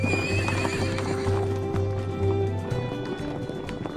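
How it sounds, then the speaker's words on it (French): Camargue horses on open grazing land neigh repeatedly in loud, close whinnies, while hooves clip-clop steadily underneath throughout. "Il y a des chevaux et des taureaux, des chevaux de race Camargue et des taureaux de race Camargue"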